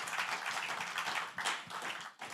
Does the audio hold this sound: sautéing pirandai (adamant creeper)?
no